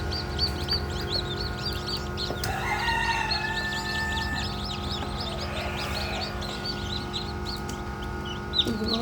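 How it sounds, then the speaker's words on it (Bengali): Farm and desi chicken chicks hatching from eggs, a dense chorus of high, rapid peeping close by, with a hum and a few clucks from nearby fowl in the background. "এই বাচ্চাগুলো কি সুন্দর একা একা ডিম থেকে বের হচ্ছে"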